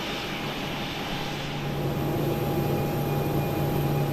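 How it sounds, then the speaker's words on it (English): Boeing 737 engines in a PMDG flight simulator game hum steadily, a smooth jet drone with a faint high whine that grows slightly louder partway through, with no talking. "But those engine sounds are wow."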